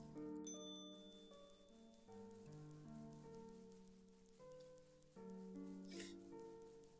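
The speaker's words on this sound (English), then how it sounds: "What are these bells about?" Several bell-like tones ring out in the video game OneShot, steady sustained pitches layered over soft game music, fairly loud and continuous with no talking.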